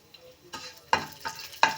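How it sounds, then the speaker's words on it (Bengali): Black cumin seeds tempered in hot oil for a fish curry with bori, a faint sizzle punctuated by four sharp scraping taps of a spatula against the pan, evenly spaced and close, with no talking. "ফোড়নে দিয়ে দেব কালো জিরে।"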